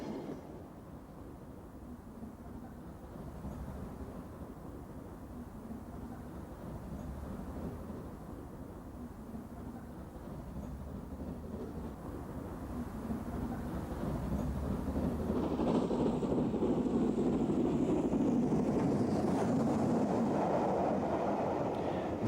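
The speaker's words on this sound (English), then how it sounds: "This train is emerging from Coombe Down Tunnel near Bath, with an LMS 2P piloting a Black 5." Steam train emerging from Coombe Down Tunnel near Bath, an LMS 2P locomotive piloting a Black 5, heard as a steady rumbling roar that swells louder toward the end, with no talk.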